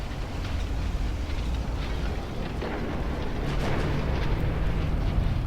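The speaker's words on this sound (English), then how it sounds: "They're firing at BBs." Naval gunfire from dreadnought-era warships in the naval strategy game Ultimate Admiral: Dreadnoughts, a continuous heavy rumbling roar of distant big-gun salvos and explosions, dense and steady throughout with no talk.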